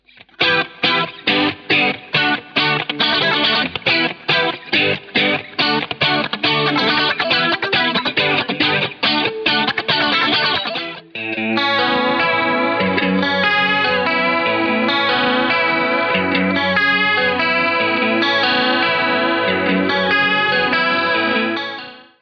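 Electric guitar dialed in for a tone with chorus and drive, first a fast run of choppy muted strums, then sustained ringing chords, loud and continuous with no talk.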